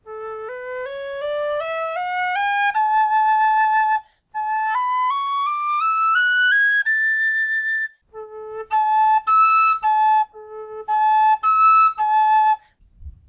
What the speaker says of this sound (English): That is literally the easiest whistle I've ever played that goes up to that third A.